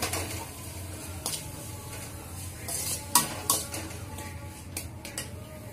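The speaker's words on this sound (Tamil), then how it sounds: "இப்ப பச்சை பட்டாணியும் கேரட்டும் எண்ணெயில கொஞ்ச நேரம் நல்லா வதங்கிருச்சு" Green peas and carrots sauté in oil in a kadai, a low sizzle under repeated stirring, with scattered sharp clicks and scrapes of a spoon against the metal pan, close and uneven in rhythm.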